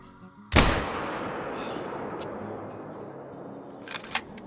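A single sharp rifle shot rings out at a bear about 100 metres away in a hunting video game, with a long fading tail and a couple of faint clicks afterward.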